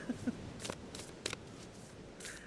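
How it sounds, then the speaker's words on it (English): Tarot cards shuffled by hand, a series of quiet, brisk riffling bursts spaced irregularly, near and soft with no voices. "I think I'll shuffle and then pull, and then shuffle more and pull, shuffle, pull."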